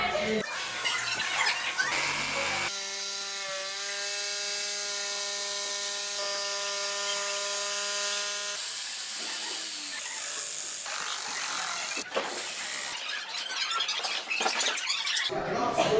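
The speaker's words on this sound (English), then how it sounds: "Using this cool chamfer bit is going to give me a nice angle on the inside." A router fitted with a chamfer bit cuts an angled edge into an arcade cabinet panel, whining loudly with a steady pitched tone through the middle and rougher cutting noise around it.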